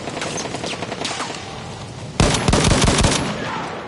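Sustained automatic machine gun fire in a combat video game, a dense rattling stream of rapid shots that swells into louder, heavier bursts midway, with no voices over it.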